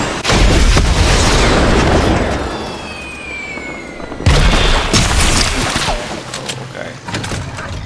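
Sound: gunfire in a video game

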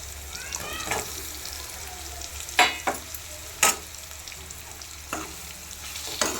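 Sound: bitter gourd frying in spiced oil, stirred

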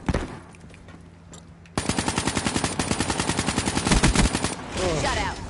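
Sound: gunfire in video game Black Ops 3

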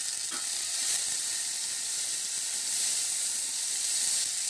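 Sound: tomatoes added to frying onions, sizzling in the pan

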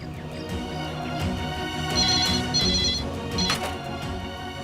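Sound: telephone ringing while calling an office

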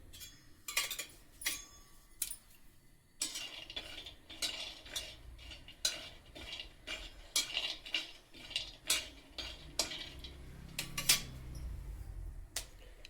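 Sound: dry-roasting peanuts in a pan for sesame til poli

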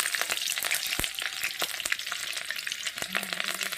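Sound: whole cumin and dried and green chilies frying in oil

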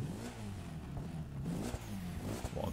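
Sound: Mitsubishi Eclipse car engine starting and revving in The Crew 2 video game

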